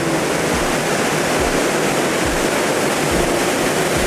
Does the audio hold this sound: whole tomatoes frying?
no